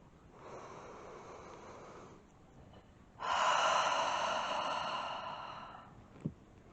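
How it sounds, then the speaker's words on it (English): A slow, deep breath drawn in and then let out during a fertility yoga session, a soft airy inhale followed by a louder, fuller exhale, close and alone with no talk. "Take a deep breath in."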